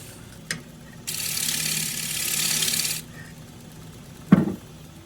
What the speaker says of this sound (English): here you see me shear scraping to refine the curve in a much larger bowl